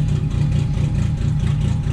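Lexus IS300 engine idling at around 600–700 RPM, a steady low throbbing rumble with an even pulsing rhythm, close and fairly loud with no talk.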